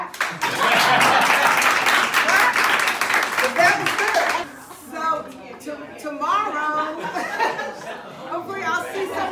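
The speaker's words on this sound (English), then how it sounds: "Let's give our speaker a round of applause." Loud, dense audience applause for a speaker at an education event on race and social justice fills the first half, then dies away into talk and murmuring.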